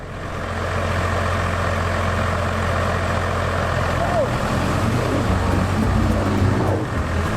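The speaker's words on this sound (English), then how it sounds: "I'm clutch out idling and I'm spinning." A pickup truck's heavy engine idles with a steady, loud low rumble throughout, clutch out, with a rough grinding texture of tires spinning, and no pause.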